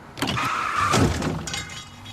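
A car rear-ends the vehicle ahead while tailgating, with one close, sharp crunching impact that rises and then fades over about two seconds, heard alone.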